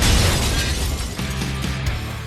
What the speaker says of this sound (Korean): 이렇게 직접 주유구에 불을 붙여서 폭발한다면